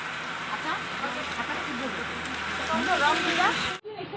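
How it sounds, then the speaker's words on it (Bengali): Heavy rain pours steadily over an open field and parked school vehicles at a spring festival, a dense continuous hiss with a few voices murmuring underneath before it cuts off abruptly near the end. "প্রচুর বৃষ্টি"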